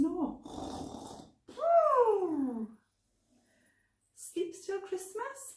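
A storyteller's voice mimics a sleeping old couple snoring, giving two long drawn-out nasal snore sounds with a pause between, followed by a shorter burst of voiced snorting.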